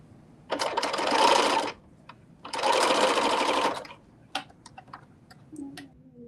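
Serger overlocking the seams of a knit dress, two loud buzzing bursts of steady machine hum, each about a second long, with a short pause between, followed by a few quiet clicks and taps.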